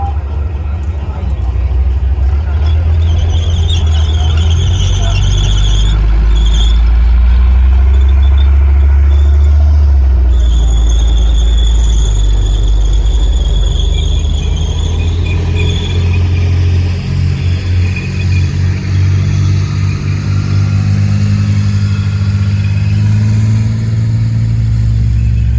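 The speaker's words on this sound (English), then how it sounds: "Tankers, take firing positions." An M60 and a Leopard tank rumble loudly into firing positions, a continuous heavy engine drone with high squealing and clanking tracks throughout, under a voice talking.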